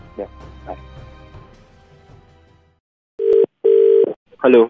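Telephone dial tone after a call is hung up, three loud steady beeping pulses with short gaps, following a stretch of faint talk and background noise.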